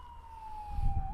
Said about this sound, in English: I don't know if y'all hear the sirens